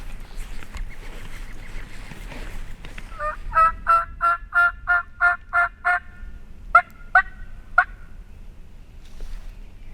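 A wild turkey gobbles at a distance in Nebraska woods, a rapid rattling burst of repeated notes followed by a few shorter calls, with no voices nearby.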